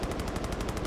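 Rapid automatic gunfire in Far Cry 5, a steady rattling burst of evenly spaced shots, loud and continuous with no talking over it.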